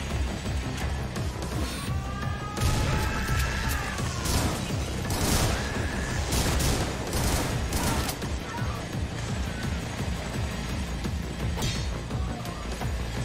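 Repeated shotgun blasts and heavy impacts in the video game Butcher, loud, dense and chaotic, with bursts of fire and crashes layered over a constant roar of game noise.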